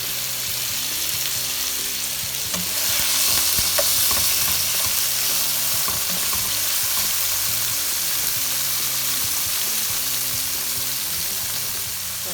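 Fish sizzles as it browns in a frying pan, with a steady loud crackle and occasional stirring or scraping on top.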